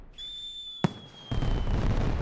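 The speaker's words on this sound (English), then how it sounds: "Fireworks on the beach." Fireworks over the beach at Patong, Phuket: a thin rising whistle, one sharp bang, then a loud sustained rumble and crackle of bursts filling the rest.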